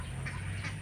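Ducks in a rice field give a soft, muffled quack or two over a steady low outdoor rumble, distant and faint in a short burst.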